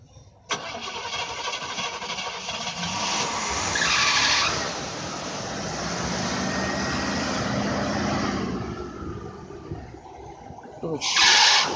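A car at the Atlas Park Mall car show, suspected of vapor lock, cranking hard with the starter grinding continuously for several seconds, loud and close, briefly stopping and then starting again, with voices faintly underneath.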